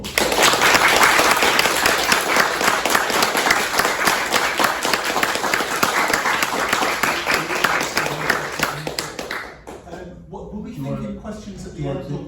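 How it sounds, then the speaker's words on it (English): Loud, full applause from an audience after an English literature talk and book discussion at a castle event, dense clapping that fades out near the end, followed by quieter speech. "huge round of applause"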